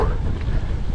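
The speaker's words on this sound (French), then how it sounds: "les rafales à plus de 50 km/h, je pense que c'est bon, elles sont là" Strong headwind gusts above 50 km/h buffet a cyclist on long straight roads, a loud, steady, low roar of wind across the microphone with no talking.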